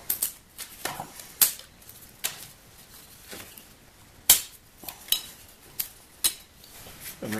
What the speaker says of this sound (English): I pry this piece off.